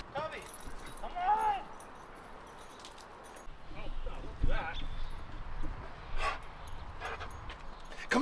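A dog inside a van gives several soft whimpers and whines while shuffling around, with jangling, thumps and movement noises and people talking nearby.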